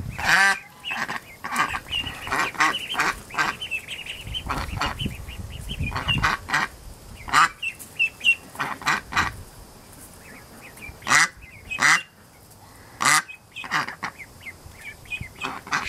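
Young ducklings quack in irregular clusters of loud, close calls. Some come as bursts and some as single squawks, with short quieter gaps between them.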